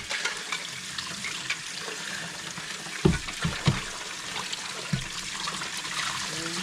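Tap water rinsing an Arai motorcycle helmet and its straps, a running stream with splashing and a few sharp knocks and thuds in the middle.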